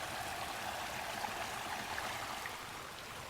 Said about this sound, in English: just listen to the water, and just watch the koi swim around